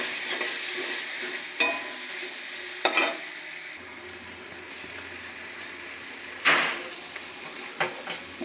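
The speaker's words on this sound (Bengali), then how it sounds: "দিয়ে মশলাটা ভালো করে আমি কষে নেব" Spice paste sizzles in oil in a pan, a continuous soft frying hiss broken by several sharp scraping clacks of a spatula stirring it, close up with no voice.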